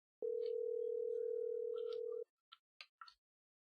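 An outgoing phone call rings unanswered: one long steady electronic tone, loud and clean against silence, followed by a few short faint ticks and blips.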